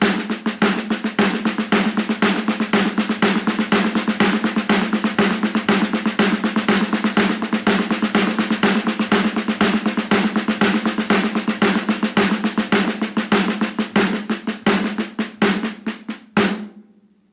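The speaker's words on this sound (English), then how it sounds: "Now the right hand will be playing just tap strokes." Snare drum tap strokes in a Moeller-method two-hand pattern roll along in a rapid, even stream of crisp hits for about sixteen seconds, then stop abruptly, with no talking.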